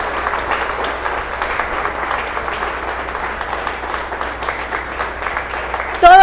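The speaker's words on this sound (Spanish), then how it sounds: "vamos a darle un fuerte aplauso al Señor" A church congregation claps and applauds together in a steady, dense wash of clapping that carries on throughout, with a brief louder burst at the very end.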